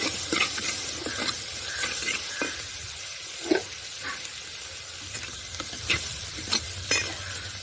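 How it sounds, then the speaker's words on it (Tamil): Steady sizzling of onions, green chilies and curry leaves sautéing in hot oil, with occasional stirring scrapes and clicks, close up and continuous. "பச்சை மிளகா போட்டுங்க. நல்லா வதங்கட்டும்."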